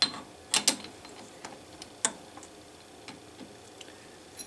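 The chuck on an Atlas lathe is snugged up, giving a handful of sharp metallic clicks and ratcheting ticks, loudest near the start and then sparser and fainter, with no talking.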